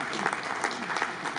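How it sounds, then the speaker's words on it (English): Brief, dense audience applause at a housing development programme inauguration ceremony, an even wash of many hands clapping at moderate level with faint voices mixed in. "Let's clap for them."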